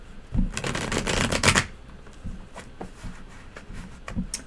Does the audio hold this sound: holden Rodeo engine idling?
no